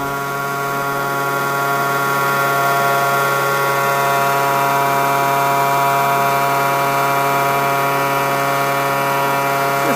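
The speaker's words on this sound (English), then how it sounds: "Hear the note of the blower changing a little bit." The blower on a woodgas stove runs steadily as the air valve opens. It makes a loud, constant whine with a hum close by, and its pitch shifts a little over time, with no talking.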